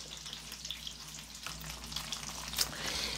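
Croquettes sizzle and crackle steadily in hot oil in a frying pan, a close, continuous hiss with scattered pops and no talking.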